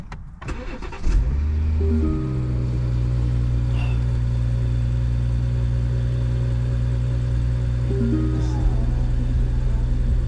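A BMW 540i fresh from a fuel tank breather valve install cranks and starts, then settles into a steady, close idle that holds evenly for several seconds.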